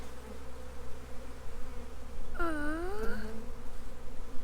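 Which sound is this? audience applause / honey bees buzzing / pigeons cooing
honey bees buzzing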